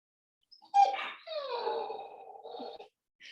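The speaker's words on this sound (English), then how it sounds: "that's my dog whining" A pet dog whines in a few drawn-out, wavering high cries with a short yip, close by and fairly clear, heard alone without any talk over it.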